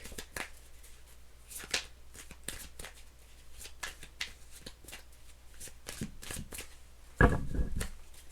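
Tarot cards are shuffled by hand in repeated quick riffles and flicks, a series of crisp papery bursts, ending with a louder thump and rustle near the end.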